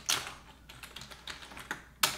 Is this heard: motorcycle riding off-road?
no